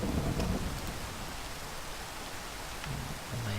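Rain and thunder summoned by a magic staff in a Minecraft mod, a dense steady downpour hiss with low thunder rumbles near the start and again near the end, no talking.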